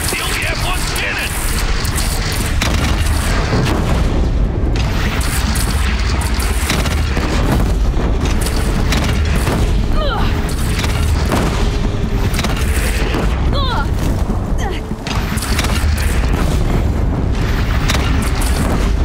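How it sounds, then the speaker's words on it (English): Heavy booming cannon blasts thunder over a dense, constant din of battle noise in the video game Horizon Zero Dawn, with shouted voices mixed in throughout. "We only have one cannon!"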